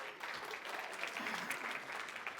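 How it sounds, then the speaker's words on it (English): Steady applause from a crowd at an awards ceremony, a dense wash of clapping that stays even and fairly distant throughout the short stretch. "Give them a round of applause."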